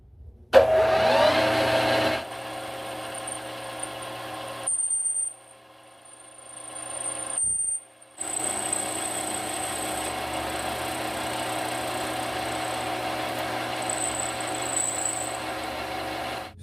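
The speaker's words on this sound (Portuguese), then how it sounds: "Eu vou segurar lá no torno e remover um pouco desse material aqui." A lathe cuts material from a part wrapped in masking tape, a steady loud motor drone with a thin high whine that stops briefly and then resumes for a long, even run.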